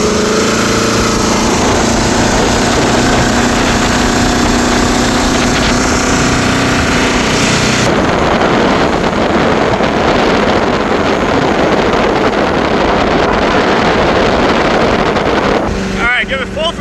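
A jet boat engine runs loud and steady on the water, with heavy broadband roar and wind buffeting the microphone, growing harsher partway through as the throttle opens, while voices speak over it.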